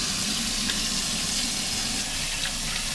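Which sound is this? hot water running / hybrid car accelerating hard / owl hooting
hot water running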